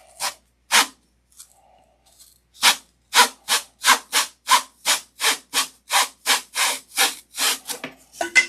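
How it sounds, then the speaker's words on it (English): A trusty hand saw cuts through material in a steady run of about fifteen rhythmic rasping strokes, close and loud, after a couple of isolated scrapes and a short pause; no voices. "Get my trusty saw here."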